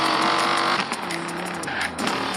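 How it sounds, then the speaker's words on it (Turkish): Dodge Viper engine in Forza Horizon 4 on Xbox Series X, a steady close engine drone that dips briefly midway and swells again, with no speech. "Sese bak lan arabanın."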